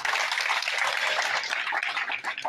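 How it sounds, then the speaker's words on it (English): Crowd applause at an outdoor political rally in Mbale, a steady wash of many hands clapping at once, fairly loud and unbroken, with faint voices mixed in. "Let's give him a round of applause"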